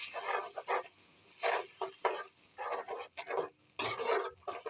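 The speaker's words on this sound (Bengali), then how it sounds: "এবার মশলাগুলোকে সুন্দর করে তেলের মধ্যে ভালোভাবে কষাতে হবে" Whole spices frying in oil for a goat meat curry, giving intermittent crackling and scraping bursts from a pan close by, with short pauses between stirs and no talking.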